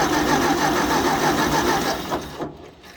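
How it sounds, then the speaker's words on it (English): 1956 Ford 640 tractor engine cranking over on the starter, a steady rhythmic churning that runs for about two seconds and then slows and fades out. "motor cranks over. It sounds marginally healthy."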